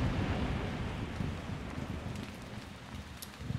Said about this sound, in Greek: Πω, βρέχει.